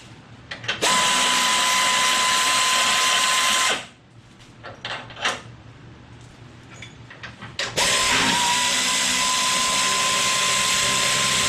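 Power tool with an adapter running on Toyota Tundra 6-inch lift hardware, a loud steady whine that stops for a few seconds of clanking and handling noise, then starts again at full volume.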